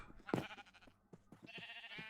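A Minecraft sheep bleats once, a short near cry, followed by quieter game sounds and a faint higher tone in the background.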